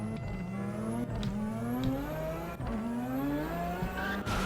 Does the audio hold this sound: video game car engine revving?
yes